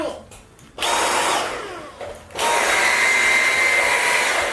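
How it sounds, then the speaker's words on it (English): A Dyson V8 Fluffy cordless vacuum cleaner with its motorized head, loud whining motor bursts close by, switching on briefly, dropping, then running again steadily with a rising tone. "The motorized head, as you can hear, is significantly more noisy."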